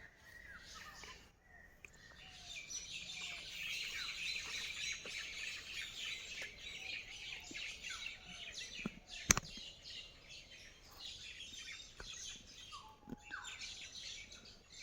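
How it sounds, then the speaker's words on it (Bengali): Birds squawk and chirp in a sal forest in a lively chattering chorus at moderate distance, with a few sharp clicks and quieter background rustle. "এখানে এদিকে কিছু পাখি আছে, তারা খুব সালিশ দরবার কিছু একটা করতেছে আর কি।"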